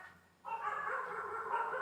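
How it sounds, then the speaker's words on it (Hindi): Dogs bark in the background after a quiet start, with a continuous, distant chorus of yips and howls that stays fairly faint. "पीछे कुत्तों की आवाज़ आ रही होगी"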